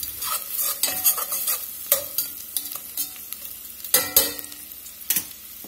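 Garlic for soup cooks down in a pot, a soft sizzle under repeated scraping and stirring clacks of a utensil against the pot, close by.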